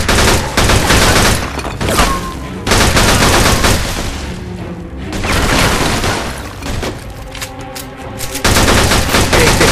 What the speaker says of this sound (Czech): Hej, pěkný výstřel, Lito.